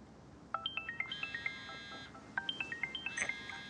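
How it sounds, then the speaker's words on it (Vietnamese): A mobile phone plays a bright, melodic ringtone for an incoming call in a quiet indoor room, two clear bursts of rapid chiming notes repeating close by with no voices over it. "Anh Hải gọi."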